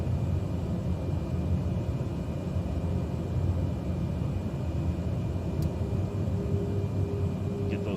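A steady, loud engine drone and broad rumble of an aircraft in flight in Microsoft Flight Simulator 2020, continuing without a break and without talk.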